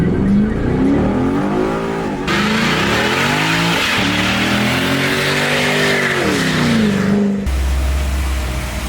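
Cammed Chevrolet Caprice police car with long gearing spinning its tires, a loud, close, rough engine revving hard with rising and falling pitch alongside continuous tire squeal.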